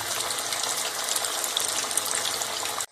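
Two fish pieces frying in hot ghee, a loud, steady, dense sizzle that holds evenly throughout before cutting off abruptly at the end.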